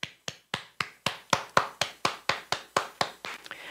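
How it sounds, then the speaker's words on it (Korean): A church congregation claps in praise during a Friday worship service, steady rhythmic unison claps about three per second, close and crisp, with no talking over them. "오늘도 저와 여러분과 함께 하시는 우리 하나님께 감사의 박수 올려드립시다."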